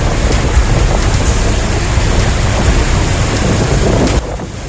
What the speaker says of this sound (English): Berlin faces disruption as Storm Lambert passes, rail services affected and streets submerged.